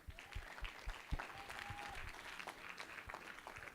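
A conference audience applauds with a soft, fairly distant patter of claps for a speaker from a youth movement, and a faint voice or tone runs beneath it.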